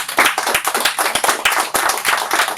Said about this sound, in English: If everyone could please give Dana a round of applause.